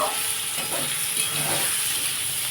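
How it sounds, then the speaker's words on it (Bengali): Neem-flavoured brinjal slices frying in an open pan in a Bengali home kitchen, a steady broadband sizzle and hiss with faint crackles throughout, close and even, with no one talking. "আমার বেগুনটা ভাজা হচ্ছে আমি চাপাটা খুলে দিয়েছি"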